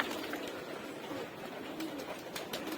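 Pigeons kept in a home loft coo softly and continuously, a low murmuring flock sound at moderate distance with faint chirps and rustles mixed in, no voices present.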